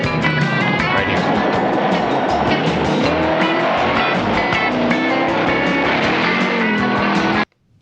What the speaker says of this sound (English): It sounded like it was coming around a curve, downshifting, going through the curve, and then going back through the gears as it pulls away